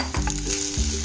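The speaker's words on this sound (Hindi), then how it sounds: "अब इस स्टेज पे आके हम इसमें साबुदाना, फिर हम इसको अच्छे से मिक्स कर लेंगे।" Sabudana khichdi sizzling loudly in a hot pan as it is stirred and mixed, a steady close frying hiss with a few scraping stir strokes and no voices.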